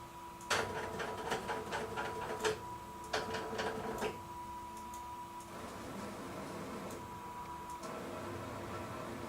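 A three-axis CNC motion setup on a band saw blade sharpening machine moves its axes: rapid bursts of ticking, whirring stepper clatter in quick clusters, then a steadier mechanical hum with faint tonal whine in a workshop.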